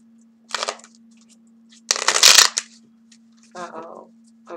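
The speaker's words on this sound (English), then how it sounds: "Okay, that's enough shuffling." Short bursts of papery riffling and flicking as tarot cards are shuffled come in three separate bursts with quiet gaps and a faint steady hum underneath.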